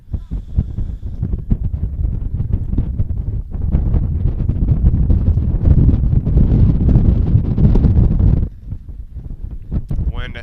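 Strong wind gusts buffet the microphone at an outdoor men's college soccer match between Lindenwood University–Belleville and Missouri Baptist, a loud continuous low rumble that swells midway, then eases before a voice speaks briefly at the end.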